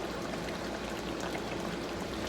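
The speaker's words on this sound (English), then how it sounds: "it's really bubbling nicely" Brown stew chicken gravy bubbles steadily in a pot over low heat, a dense, continuous close-up simmering hiss with no pauses.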